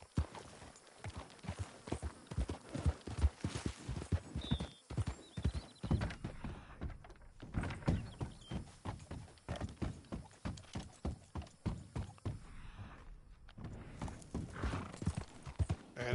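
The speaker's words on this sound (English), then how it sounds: "as John, you have to win this race in a horse and wagon." Horse hooves pound steadily in a wagon race in Red Dead Redemption 2, rapid rhythmic clip-clop close and loud with wooden wagon rattle and an occasional whinny.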